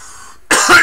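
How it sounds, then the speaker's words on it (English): A burst of loud, harsh coughing close by after taking a dab from a titanium nail, a short rough fit erupting suddenly after a quiet moment. "once you start coughing with dabs, it's just like you gotta keep going and going and going"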